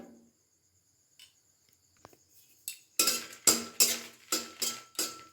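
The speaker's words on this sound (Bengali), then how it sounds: "এবার শুকনো লঙ্কাটা প্রথমে দিয়ে দিলাম" Dry red chilies are stirred in a dry wok over a gas flame: after near silence with a few faint ticks, a run of sharp rhythmic metallic scrapes and clinks comes close and fairly loud, about one every half second.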